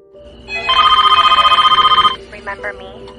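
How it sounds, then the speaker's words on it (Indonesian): Telephone ringing at midnight from a private number, a loud bright electronic trill in one sustained burst of rapid pulses lasting about a second and a half, followed by brief faint sounds. "Di saat tengah malam, dering telepon dari nomor pribadi kembali terdengar"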